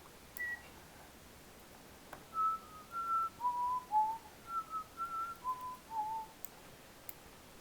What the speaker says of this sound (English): Not sure why I'm whistling the theme for Jurassic Park